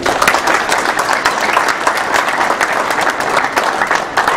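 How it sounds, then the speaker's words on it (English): Audience applause fills a town hall meeting on the right to carry in DuPage County, a dense, steady clapping from a crowd that stays loud and even throughout, with no talk over it. "You deserve a big round of applause."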